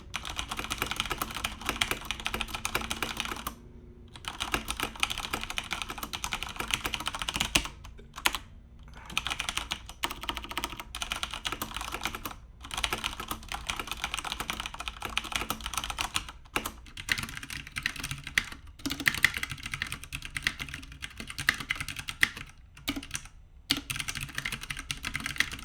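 Rapid continuous typing on a mechanical keyboard with Cherry MX Brown switches, close and clear, dense clacking keystrokes broken by a few brief pauses.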